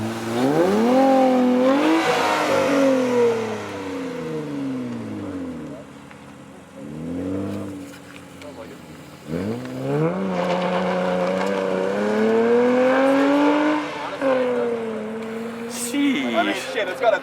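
Loud BMW M2 Competition exhaust, a 3.2-litre engine, rising and falling through hard acceleration pulls, heard from inside the car with engine pitch sweeping up repeatedly.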